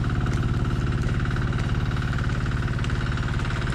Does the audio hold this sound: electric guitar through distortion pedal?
no